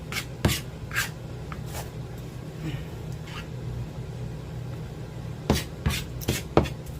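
A sharp knife chops on a board during Indian fried bread preparation, with a few scattered cuts early on and a quicker cluster of sharp strikes near the end over a low steady hum.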